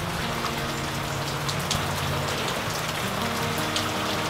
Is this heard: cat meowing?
no